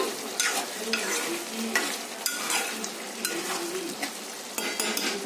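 Yellow chicken curry is stirred in a hot pan, a continuous sizzle with repeated scraping strokes and light clinks of a metal spoon against the pan, close up with no talking.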